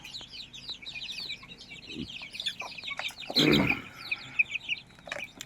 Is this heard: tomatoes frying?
no